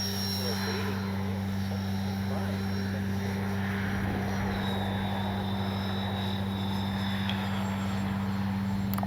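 An FGFRC Bronco RC plane flies a touch and go, its steady electric motor and propeller droning continuously with a constant tonal hum, with a voice talking faintly at times.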